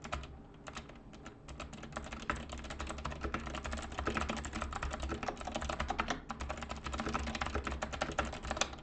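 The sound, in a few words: computer keyboard typing, pressing Shift+Enter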